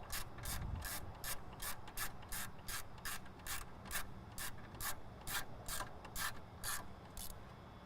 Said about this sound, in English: So now just with an 8mm, we're going to remove this bolt.